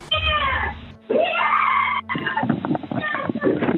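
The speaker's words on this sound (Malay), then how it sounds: "boleh dengar jeritan Vera di hujung talian kot" A woman screams and shrieks over a phone line during a recorded emergency call, loud, strained and distorted, in sustained bursts with brief breaks, the final stretch becoming more broken and choppy.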